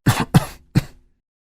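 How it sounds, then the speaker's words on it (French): Three short coughs from one person during a doctor's examination, close and clear, the first two quick together and the third after a brief pause. "Toussez."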